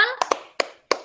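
Children in a classroom doing a thumb clapping game, a brief voice at the start followed by four sharp, close hand claps in an uneven rhythm.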